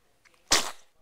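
A single sharp sneeze bursts out close by, loud and sudden, then trails off quickly after a faint breathy intake just before it.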